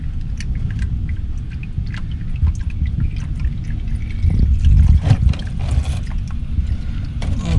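Runny old engine oil drains out of a Ford Sierra that has not run for a couple of days, making a steady close trickle and patter that swells briefly midway.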